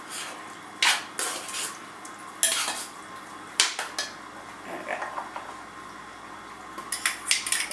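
A spoon clatters and scrapes against a pan while cilantro and Italian seasoning are tossed and stirred, sharp irregular metallic knocks over a faint sizzle, close up with no talking.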